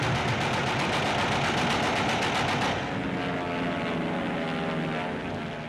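A remote-controlled propeller target plane, built for anti-aircraft gunnery training, drones loudly overhead with a pulsing buzz that drops in pitch and softens partway through as it passes.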